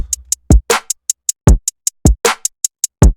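A programmed drum loop made in FL Studio plays on its own, with punchy low kicks and snares under crisp hi-hat ticks on every other step in a steady mechanical pattern.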